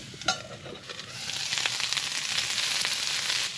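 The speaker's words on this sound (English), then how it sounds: "I'm gonna start off by sauteing some of these onions." Onions sauteing in olive oil in a small pan inside a hot tent during snowy winter camping, a close, steady hiss of frying that builds after an opening clack and holds at a constant level.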